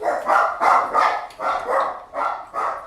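Small dogs bark repeatedly, about seven sharp, evenly spaced barks close by and loud, with no talking over them.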